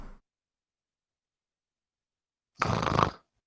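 Person imitating a cartoon-style snore, a single rasping snort of about half a second following a brief earlier sound, with silence in between.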